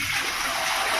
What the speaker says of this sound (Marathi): त्याच्यात मी हे पातेलं भरून पाणी टाकणार आहे.